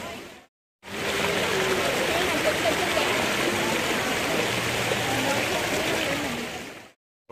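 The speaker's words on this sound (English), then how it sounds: "But with the amazing water fountains" Fountains at a Paris-themed waterfront, Epcot's France pavilion, send up a steady, full rush of splashing water that runs unbroken for several seconds after a short gap, with faint voices in the background.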